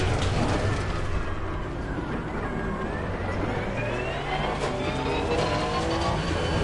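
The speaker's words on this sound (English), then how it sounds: "There's a car around me. Where is it?" Race car in Assetto Corsa Competizione at Paul Ricard, a loud engine whine with rising and falling pitch as another car closes in and passes, over continuous road and tyre noise.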